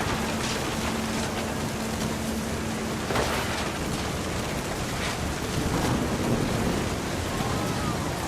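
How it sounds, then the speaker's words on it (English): Stormy ambience from What Remains of Edith Finch: a steady roar of rain, wind and surf with a low rumble of thunder and a few sharper crackles, with a faint tone running beneath for the first few seconds. "Thunder sounded much too close and full of angry power"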